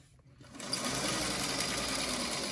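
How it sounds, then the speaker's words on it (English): A sewing machine chain-pieces fabric, starting after a brief quiet moment and then running in a steady, fast, close mechanical whir. "I just sew right off of the piece and pick up my next piece."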